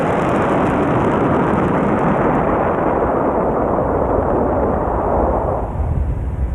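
A SpaceX Falcon 9 first stage fires its engine for the landing burn at Landing Zone 4, a loud, steady roaring rumble that fills the air for several seconds and eases slightly at the end.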